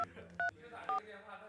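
Telephone keypad tones from a phone used by new army recruits calling home, three short beeps spaced evenly apart, faint and close, with low room sound between them.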